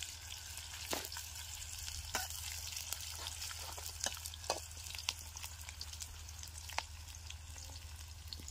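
Onion and garlic fry in a pan with a continuous crackling sizzle, scattered sharp pops and occasional stirring scrapes, close and steady with no talk.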